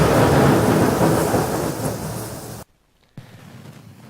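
Loud rolling thunder rumbles over heavy rain, fades a little, then breaks off into near silence. Quieter rain returns with a faint thump.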